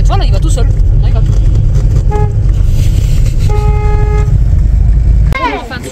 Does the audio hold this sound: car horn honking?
yes